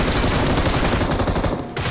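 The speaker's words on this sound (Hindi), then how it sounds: "गलती कर दी छोटू, गलत इंसान पे गोली चला दी" Loud, dense bursts of rapid automatic gunfire from the BGMI battle royale video game, sustained and close, with a brief dip near the end.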